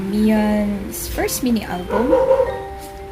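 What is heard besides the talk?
dog barking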